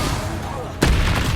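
A Bombarda spell detonates in Hogwarts Legacy, a sudden loud, close boom cutting through a low rumble of combat noise, followed by a sustained crackling roar.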